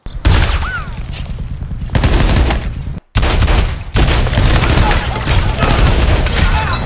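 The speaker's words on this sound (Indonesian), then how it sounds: "Dia terus menembak ke atap dan berhasil menembak beberapa anggota si albino." Gunfire from an action film as the shooter fires at the roof, dense rapid shots and loud bursts running almost continuously, with a brief gap near the middle before the barrage resumes at full intensity.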